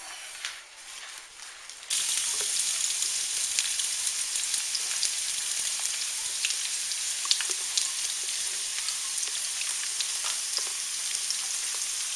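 Vegetable oil frying in a pan starts abruptly after a quiet moment, then a steady bright sizzle with scattered sharp pops continues to the end.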